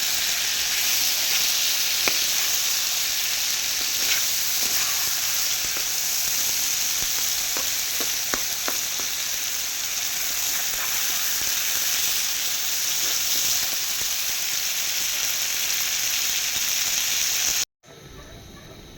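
Pointed gourd (potol) sizzles steadily in a hot pan, a loud continuous frying hiss with occasional crackles and stirring scrapes, cutting off abruptly near the end.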